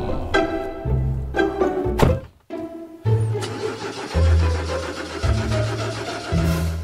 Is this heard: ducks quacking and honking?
no